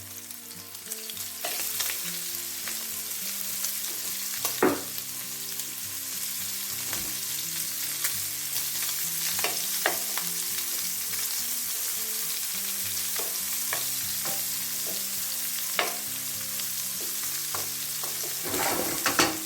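Red onion frying in a pan with chicken liver and chorizo, a steady close sizzle with scattered crackles and occasional stirring scrapes, continuous for the whole stretch with no talking.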